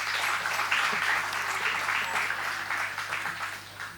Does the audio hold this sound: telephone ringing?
no